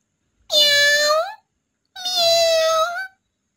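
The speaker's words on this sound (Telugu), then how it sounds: "అలా ఒక పిల్లి శబ్దం చేసి అక్కడి నుండి పారిపోతుంది" Two loud, drawn-out cat meows close by, each about a second long, separated by a short silence.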